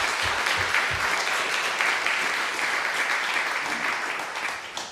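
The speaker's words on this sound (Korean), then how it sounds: "박수 한번 하겠습니다." A church congregation breaks into steady applause, dense many-handed clapping filling the room at a loud, even level before easing slightly toward the end.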